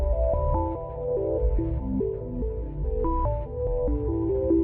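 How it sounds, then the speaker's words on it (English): NASA Chandra Deep Field sonification of black holes, a steady low hum beneath a shifting sequence of clear, plucked-sounding synthetic tones stepping up and down in pitch, continuous and moderately loud, with no talking. "And this one is my favorite, the Chandra Deep Field Sonification."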